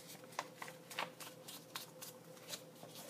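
Sheets of paper are folded and pressed into sharp hamburger-fold creases for a handmade accordion sketchbook, giving a series of short, crisp papery rustles and swipes spaced about every half second at close range, with no voices.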